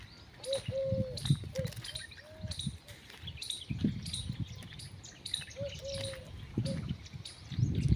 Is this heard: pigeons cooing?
yes